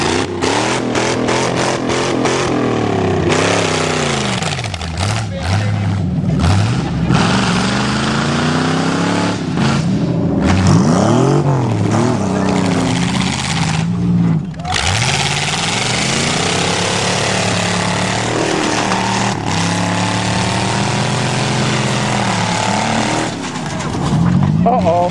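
A demolition derby car engine revs loud and steady with the throttle held open, a rough roaring drone with rising and falling pitch sweeps, while people talk over it.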